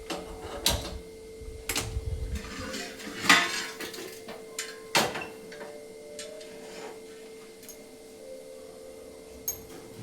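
Peanuts roasting in a dry pan, with scattered clinks, taps and rattles of a metal utensil and pan, busier early on and then sparse and quiet.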